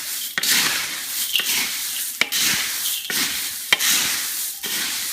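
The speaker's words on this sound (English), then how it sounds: "we're going to give it a good mix" Indian chevdo snack mix tossed and stirred in a pan, producing a steady dry rustling and crunching with sharp scrapes and clacks roughly every second, close and fairly loud with no voices.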